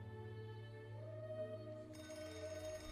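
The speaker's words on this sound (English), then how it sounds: "The phone is ringing." A telephone rings in the movie The Batman (2022), steady electronic ringing tones with a change in pitch partway through, moderately loud under a low humming film soundtrack, with no talk over it.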